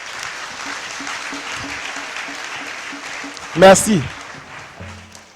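Church congregation in Côte d'Ivoire clapping steadily at moderate volume, with a rhythmic beat underneath and a brief spoken word near the end.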